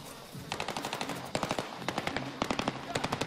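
Automatic gunfire in the Battlefield 3 video game sounds in several rapid, evenly spaced bursts. The shots are close and loud, with short pauses between the volleys.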